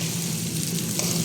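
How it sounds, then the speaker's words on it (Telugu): Tempering sizzles steadily in a hot pan for drumstick sambar, a dense, even frying hiss that stays close and loud throughout the short stretch with no voices. "తాలింపు కూడా ఆల్మోస్ట్ రెడీ అయిపోతుంది."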